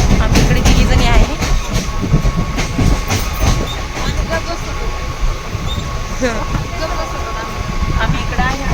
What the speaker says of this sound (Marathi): तर आता आम्ही लोकल ट्रेनमध्ये आहे.